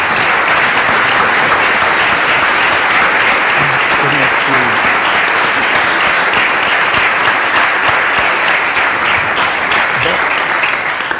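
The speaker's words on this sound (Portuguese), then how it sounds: "Quero uma grande salva de palmas para os nossos oradores." Audience at an afternoon political debate applauds its speakers with loud, sustained clapping from a large crowd that fills the whole stretch at an even level.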